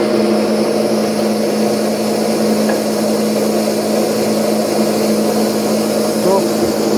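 A repaired FS-1 milling machine runs its spindle at first speed, a loud steady whirring drone with a constant tonal hum throughout, close and uninterrupted.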